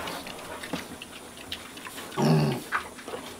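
A pig gives a low, short growl up close against quiet background noise, followed by a few faint clicks.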